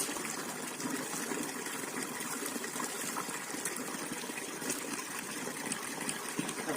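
Water rushes and splashes steadily during a morning face wash, a close, continuous gush like running tap water with small irregular splashes and no talking.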